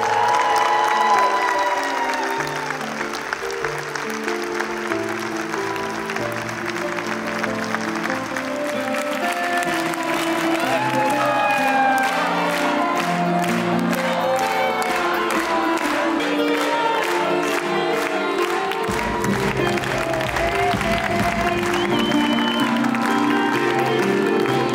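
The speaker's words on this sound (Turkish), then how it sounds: "Seyircilerin alkışlarla eşlik ettiği kutlama" A theatre audience applauds at a curtain call for actress Demet Akbağ, sustained clapping and crowd noise mixed with music that swells and thickens toward the end.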